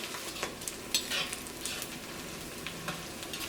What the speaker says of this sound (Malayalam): ഈ ചുവന്നുള്ളിലേക്ക് നന്നായിട്ടൊന്ന് മുരിയണം